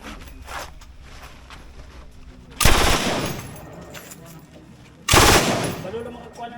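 A K3 light machine gun fires two loud, close bursts at an army reserve firing range, separated by a few seconds of low background noise and faint murmur.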